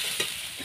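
Masala spices frying and being stirred in a pan, a soft continuous sizzle with faint scraping from stirring, close and brief.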